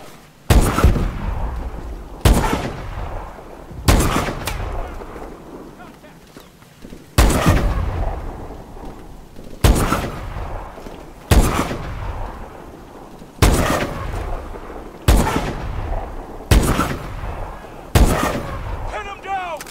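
Heavy gunshots in the video game Call of Duty Advanced Warfare during a scoped mission, about ten loud, sharp reports spaced every couple of seconds, each trailing off into a long echoing tail.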